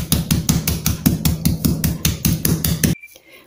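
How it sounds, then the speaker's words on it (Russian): Pieces of raw chicken breast wrapped in plastic film are pounded flat with a steady run of about a dozen sharp, even thuds on a kitchen board, close and loud, before stopping abruptly. "Берем вот такие, ну, произвольные кусочки куриной грудки в пленку и хорошо отбиваем."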